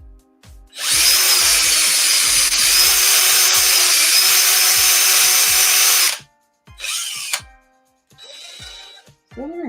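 A power tool drills into wood during ornament crafting, a loud sustained whine lasting about five seconds, then stopping, followed by a couple of shorter bursts.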